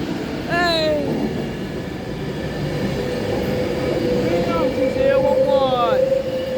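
An Avanti West Coast train on a London Euston to Glasgow Central service rolls through Coventry station with a loud, sustained rumble, while voices talk over it.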